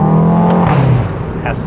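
A VW Golf 7.5 R engine hums loudly inside the car while driving, its steady tone sliding lower as revs drop, then settling into a quieter drone.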